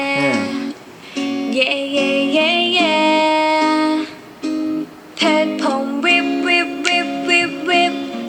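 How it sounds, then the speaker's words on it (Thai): Music with a singing voice plays continuously from a speaker built into an LED light bulb, slightly thin and tinny, with short gaps between phrases. "นี่เสียงมาจากลำโพงเลยนะ"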